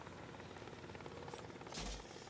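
A helicopter in the Deadpool video game drones steadily with a dense, continuous rotor wash, fairly faint, swelling briefly near the end.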